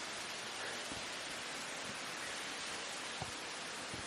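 Ganoga Falls, an 11-foot waterfall on a hiking loop, gives a steady broadband rush of falling water with no pauses, close and continuous throughout.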